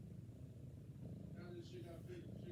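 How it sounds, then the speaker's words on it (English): A domestic cat purrs close and quietly in a steady low rumble, with a few brief higher mewing sounds toward the end. "Oh, you want to purr."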